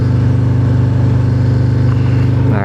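Harley-Davidson Breakout 117 motorcycle engine pulling under load, a loud, close, deep pulsing rumble that holds steady throughout, with no talk.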